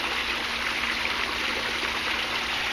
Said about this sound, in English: where this water's coming in, it's coming in right over top. Right over top of the auto cyclone